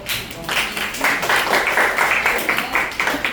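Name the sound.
classroom clapping for a student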